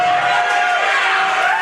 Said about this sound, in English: I think they're just cheering.